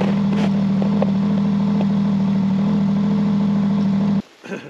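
A snowmobile engine idles on a frozen lake in winter, a loud, steady low drone with faint clatter, before cutting out near the end.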